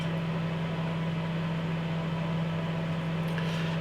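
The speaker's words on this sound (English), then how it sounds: "Bang in a microwave, see what we get from it." A microwave oven heating a Morrisons steak and ale pie ready meal, giving a steady low electrical hum with a constant fan-like whir, unbroken and moderately close with no talking.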